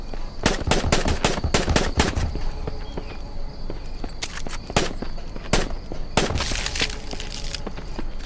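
Rapid gunfire shooting an enemy in the survival video game Island Survival, with loud clustered bursts of shots, a few isolated cracks and a final heavy burst with a blast-like tail.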